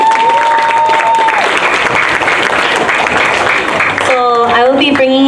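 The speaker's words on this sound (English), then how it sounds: "Could we give another round of applause for Ifit?" Continuous crowd clapping at a storytelling session of the Celebrate Micronesia Festival carries on loud and even, then gives way to a voice speaking over the fading applause.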